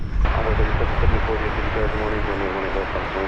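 An American Airlines jet takes off from runway 18 left at DFW airport, its steady broadband engine roar filling the scene while a radio voice talks over it.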